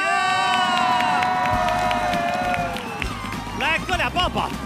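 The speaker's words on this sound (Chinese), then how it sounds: "我们用掌声欢迎你们最爱的小宝副局长。" Studio audience cheering and clapping on a Chinese television variety show, a loud crowd roar with whoops and shouted voices, excited talk rising over it toward the end.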